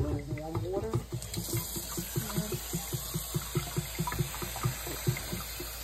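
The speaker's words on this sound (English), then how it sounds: "And I'm going to fill it with a little warm water." Warm water pours into a container for washing fruit, a steady trickling splash with small rhythmic gurgles running under a faint voice at the start.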